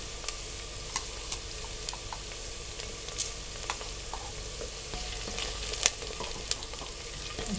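Bay leaf and cumin sizzle with softened onions in a handi while Peshawari namkeen mutton cooks, a steady broad fry hiss with scattered sharp crackles and pops throughout, close and fairly quiet, no voices.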